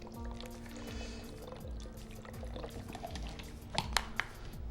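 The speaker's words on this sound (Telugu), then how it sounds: "కొద్దిగా నీళ్ళు కూడా ఇందులో పోసుకోవాలి మనం." Water poured into a blended pear juice mixture with pear pieces, a steady liquid splashing and filling sound with a few sharper clinks near the end, fairly close and moderately loud.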